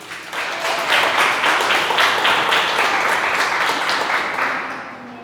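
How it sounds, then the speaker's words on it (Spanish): A church congregation applauds, a dense, steady wash of many hands clapping that fills the room for several seconds, then tapers slightly at the end. "Dale un aplauso a Jesús."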